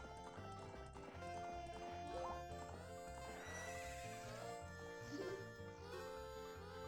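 Epona the horse in the Ocarina of Time video game whinnies over a steady game music score, with light clip-clopping hooves at the corral and no talk.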